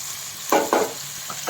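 Chicken pieces being stirred into sizzling masala in a pan make two quick close scraping, crackling bursts over a faint background fry, then a smaller stir near the end.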